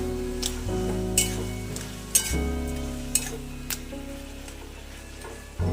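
Hilsa and taro curry being stirred in a pan, a steady low simmering sizzle with a few sharp clicks of the spoon against the pan, close and continuous with no talking.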